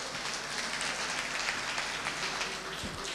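Sustained audience applause at a Christmas nativity-scene event staged inside a prison, a dense steady wash of many hands clapping throughout with no pauses.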